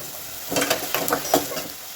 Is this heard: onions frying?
yes